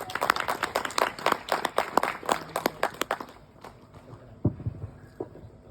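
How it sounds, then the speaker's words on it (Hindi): Audience applauding for the gurus, a few distinct hands clapping in an uneven rhythm that thins out and fades, leaving faint scattered sounds at the end. "इसके लिए सभी गुरुओं के लिए जोरदार ताली हो जाए"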